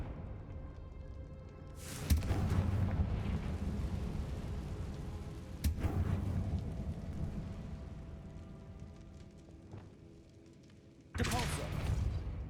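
Confringo fire-spell blasts in Hogwarts Legacy, three sharp booming hits spaced a few seconds apart, each followed by a rumbling roar over steady background game noise.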